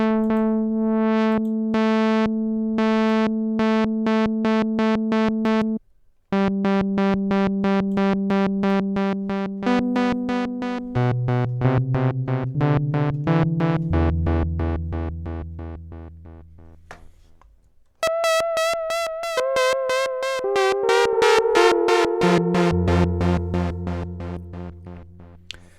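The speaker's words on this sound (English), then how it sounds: "closing the filter in a cyclic way. And we can change the rate as we see fit" Sustained Thor synth tones with an LFO sweeping the filter so it rises and falls rhythmically, changing speed and shape as notes shift, loud and continuous with no voices.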